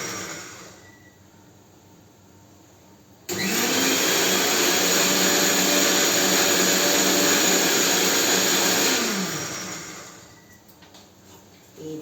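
A mixie grinder whirs loudly for several seconds as it blends cumin and coconut for majjiga pulusu, running steadily, then winding down; no talk over it.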